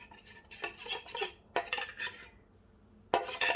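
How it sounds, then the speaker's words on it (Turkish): A knife chops hazelnuts into small pieces on a board in a kitchen, making quick bursts of crisp taps and crunches separated by short pauses, close and fairly loud, with no talking. "Diğer taraftan da böyle bir su bardağından bir parmak eksik fındığı küçük parçalara ayırıyorum."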